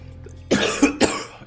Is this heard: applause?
no